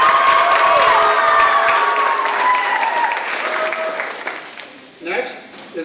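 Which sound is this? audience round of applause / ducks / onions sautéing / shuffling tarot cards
audience round of applause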